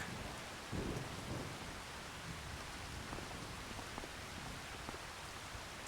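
Steady rain with rumbling thunder from a thunderstorm in the farming game Farming Simulator 25, the downpour constant throughout and a deeper thunder swell near the start.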